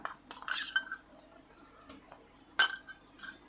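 Chicken rezala with ginger paste is stirred in a pot, giving quiet scraping and a few sharp metallic clinks of the spoon against the rim, with one louder clank near the end.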